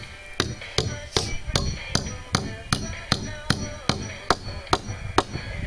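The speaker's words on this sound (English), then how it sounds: "Nailing on the deck." Hammer strikes driving nails into a log cabin's wooden deck, about a dozen sharp, evenly spaced blows ringing out close and loud with no talking.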